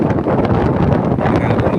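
Wind blows outdoors during a fishing trip near rocks, a loud, steady rumbling buffet against the microphone that fills the whole stretch without a break.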